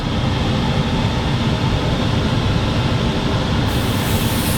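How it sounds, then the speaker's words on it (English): Steady, loud broadband whooshing roar of a fan running continuously, with no pauses and a slight shift in tone near the end. "We're going to have to put the old fan on now."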